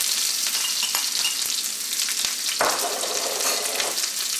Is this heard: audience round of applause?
no